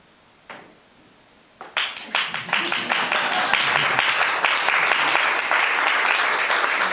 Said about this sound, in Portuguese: Batam palmas